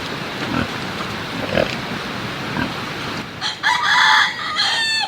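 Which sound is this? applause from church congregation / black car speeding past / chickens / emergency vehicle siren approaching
chickens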